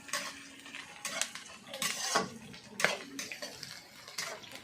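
A spoon stirs and scrapes through chicken frying in a pot after sugar is added for biryani, with soft wet sizzling and intermittent metallic scrapes, close but quiet.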